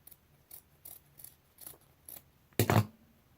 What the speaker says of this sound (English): And we're just going to cut away the extra.